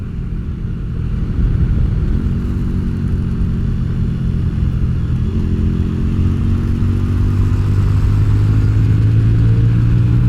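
A bobber motorcycle engine with modified carburetor slides idles loudly and close, then its revs climb steadily in a rising drone that holds a strong, throbbing pitch.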